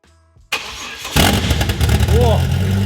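A Ford Falcon fitted with a GT45 turbo cranks briefly, then fires up and settles into a loud, rough idle close by, with a voice audible over the engine.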